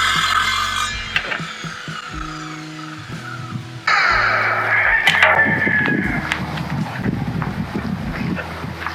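Saw cutting through a wood panel with an unsuitable blade, a loud steady grinding rasp that changes pitch and tone partway through, close up with no talking.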